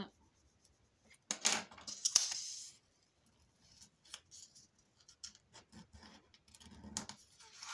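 Scissors snip through paper being trimmed for a handmade folio, a few close crisp cuts in bursts with short pauses and light handling rustle between.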